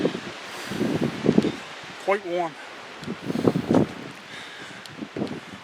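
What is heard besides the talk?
wind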